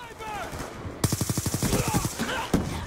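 Rapid automatic fire from an M27 rifle in a first-person shooter game, a fast burst of about a dozen close, evenly spaced shots, with a voice talking over it before and during.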